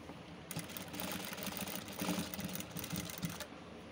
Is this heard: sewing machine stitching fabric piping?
yes